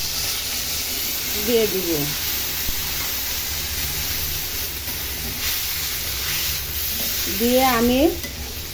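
Spiced masala and papaya sizzle and fry in a pan as they are stirred, a steady close hiss that continues under two short bursts of a woman's speech.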